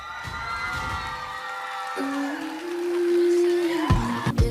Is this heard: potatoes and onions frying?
no